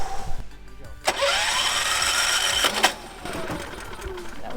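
A Champion generator engine, started with the choke on, cranks and pops briefly, then sputters in a rough mechanical burst before stalling, with a voice heard nearby.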